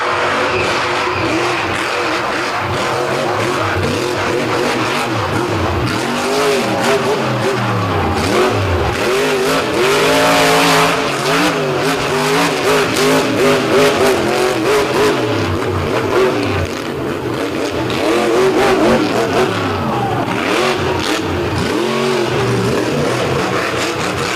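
A monster truck at a beach show roars and revs hard while dancing on its back tires, its engine rising and falling in loud sustained surges for the whole stretch, with no pauses.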